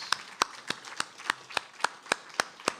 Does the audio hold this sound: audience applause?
yes